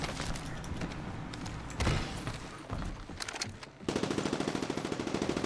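Rapid automatic gunfire from the Apex Legends battle royale game, including a Havoc energy rifle, rattles in dense bursts throughout, with a steadier, regular stream of shots toward the end.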